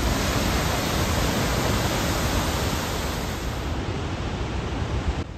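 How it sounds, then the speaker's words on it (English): Victoria Falls roaring, a dense, constant broadband rush of falling water that fills the whole stretch, loud and unbroken with no voices. "This is the actual sound of the Victoria Falls."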